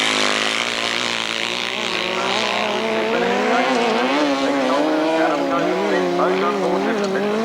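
Sidecar racing engines at a 1991 grasstrack meeting, loud continuous high-revving drone from several machines with pitch rising and falling as they race past, no gaps throughout.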